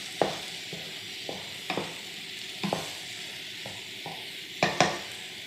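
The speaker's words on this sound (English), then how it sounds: "let's keep stirring the fennel and carrots" Fennel and carrots being stirred in a hot pan, with a low continuous sizzle broken by repeated scraping strokes of a utensil against the pan, several sharp clatters standing out, close up and with no talking.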